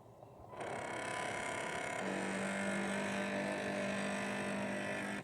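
A Heng Long RC workboat's motor runs with a loud, steady high-pitched buzzing whine that kicks in abruptly and holds, a tonal hum joining partway through.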